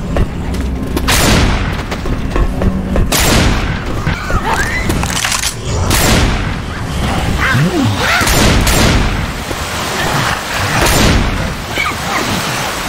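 Gunfire rattles through a cooperative zombie shooter video game as characters shoot, with repeated loud booming blasts and bursts of shots over a dense, noisy mix of game sounds and voices.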